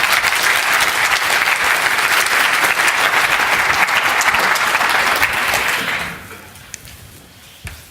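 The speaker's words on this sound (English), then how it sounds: "let's do a quick round of applause for these guys that have sponsored these" A large audience at the SharePoint Evolution Conference 2015 keynote gives loud, sustained applause that fills the room for about six seconds, then fades to a few stray claps and thumps.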